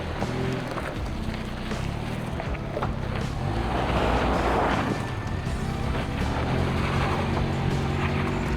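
A Ford Bronco on off-road tires, not aired down, grinds up a steep off-road obstacle with front and rear lockers engaged; its engine drones steadily and close throughout, rising slightly in effort midway, with no talk.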